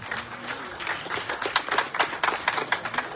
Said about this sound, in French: Encore plus d'applaudissements, s'il vous plaît.